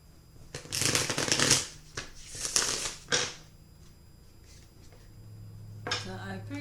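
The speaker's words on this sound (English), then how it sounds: "So I pre-shuffle my decks, but I will shuffle them again to set the intention for you." A deck of animal totem oracle cards is shuffled close by in a few quick riffling bursts, each a crisp flutter of card edges, followed by quieter handling noise and a low hum.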